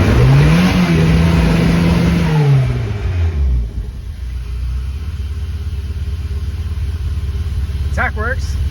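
A turbocharged MK2 VW Golf GTI with a cold engine revs up on its two-step launch limiter, a loud rising engine note that settles into a steady rumbling idle, with a brief voice near the end.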